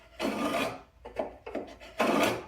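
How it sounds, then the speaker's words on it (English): Wood being scribed along the edge of a 2x4, heard as several separate rasping strokes: two longer scrapes at either end with short quick scratches between, close and fairly quiet, with no talking. "the best way would just be to scribe them against the edge of the 2x4"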